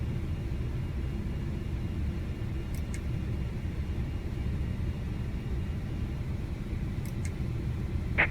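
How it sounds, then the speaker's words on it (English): An MD-11 jet engine spooling up in X-Plane 12 at Los Angeles, a steady deep rumble and roar holding at an even level throughout, with faint brief clicks. "Fuel introduced, and it is spooling up nicely."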